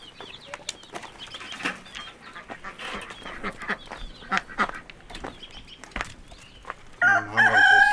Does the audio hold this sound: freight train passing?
no